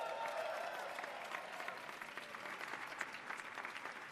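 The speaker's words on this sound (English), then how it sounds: "So give yourselves a round of applause" Steady crowd applause at a vigil fills the whole stretch, a dense, even patter of many hands at moderate distance with no voices standing out.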